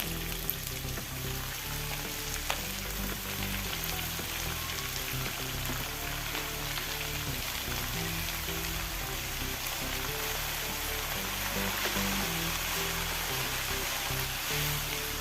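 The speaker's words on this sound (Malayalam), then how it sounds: "ഇനി അരിഞ്ഞു വെച്ച പാലക്ക് ഇട്ട് കൊടുക്കാം" Chopped palak leaves go into a pan of oil with potatoes, producing a steady, broad hiss of frying that continues evenly at moderate volume with no voices.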